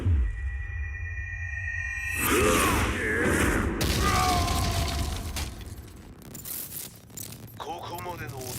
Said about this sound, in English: Explosion confirmed at the Mishima dojo.